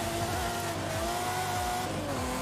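Ferrari 512 TR engine in Forza Horizon 5 pulling hard from a rear-wheel-drive launch, its loud, close exhaust note rising in pitch through repeated sweeps as it climbs through quick gear changes.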